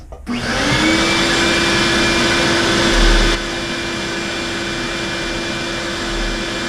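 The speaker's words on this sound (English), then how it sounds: "Set the vacuum up so we don't make a mess." A vacuum cleaner set up to catch debris during a gas boiler clean and service starts up and runs as a loud, steady whine, its pitch dropping slightly partway through.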